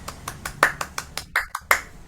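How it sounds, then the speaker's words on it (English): A single participant in an online meeting claps, about eight sharp, separate hand claps at an uneven, unhurried pace, close to the microphone, with no voices over them. "I should clap for you."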